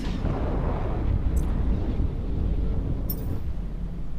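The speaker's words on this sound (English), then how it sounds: "I would say that this Hurricane is using artillery cannons" Artillery cannons firing from a Hurricane ship in the space game EVE Echoes, a steady heavy roar of booming shots blending into one another, with faint higher crackles mixed in.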